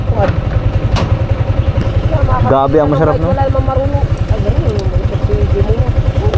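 A motorcycle engine idles and putters close by with a steady rapid chugging, running under casual conversation in Tagalog as voices talk over it throughout.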